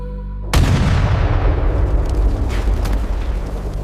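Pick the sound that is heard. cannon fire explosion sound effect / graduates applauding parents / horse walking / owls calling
cannon fire explosion sound effect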